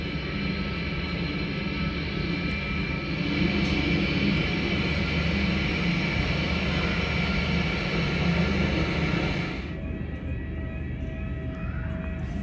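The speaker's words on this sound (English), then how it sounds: "Here's my aircraft for today, arriving from Perth as JQ989." Jetstar Airbus A320 arriving from Perth, heard as a loud, steady jet engine rumble and whine. The roar drops sharply near the end, leaving a quieter hum with a faint tone. No voices are heard.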